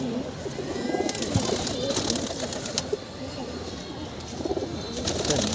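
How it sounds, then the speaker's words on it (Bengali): Pigeons coo steadily inside a loft during the molting season, with soft overlapping calls and rustling running throughout at close range over a constant background hiss. "মাটি কবুতরটা দেখেন"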